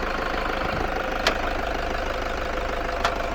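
A 2007 Toyota Hilux Vigo Prerunner's 3.0-litre D4D diesel idles steadily with a close, even knocking clatter, the hood open and no talk over it.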